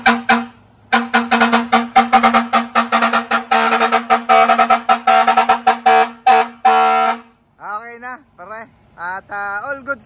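A loud multi-tone electronic car horn from a 12-channel horn module blasts in rapid stuttering bursts, then shifts to a warbling siren-like pattern, close and piercing.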